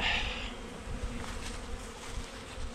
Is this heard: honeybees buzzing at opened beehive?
yes